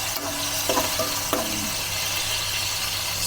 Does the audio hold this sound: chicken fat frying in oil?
yes